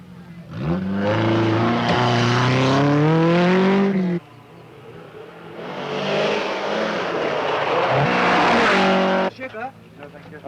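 A Colt Lancer rally car engine racing in the 1976 Safari Rally, loud revving and sustained engine drone with rising and falling pitch, passing close, with a voice talking over it.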